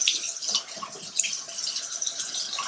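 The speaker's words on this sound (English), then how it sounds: "when you wet your brushes, you kind of want to hold them down like this when you wet them" Water runs steadily from a tap while makeup brushes are wetted under it, a close, continuous hiss with small splashes and shifts in the stream.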